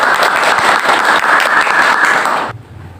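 Students and guests at a school podcast event for Isra Mi'raj give a loud, sustained round of applause that cuts off abruptly near the end, leaving a quiet room.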